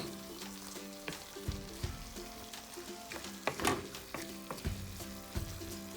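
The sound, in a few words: vegetables being stirred while frying for ramen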